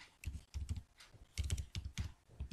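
Keys clatter on a computer keyboard while a Python string function is entered, coming in short irregular bursts of close, crisp clicks separated by brief pauses.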